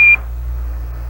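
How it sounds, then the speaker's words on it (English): A short, loud, steady electronic beep tone from the Apollo lunar module's 1201 program alarm cuts off sharply after a fraction of a second, then leaves a low radio-hiss background. "Roger, 1201 alarm."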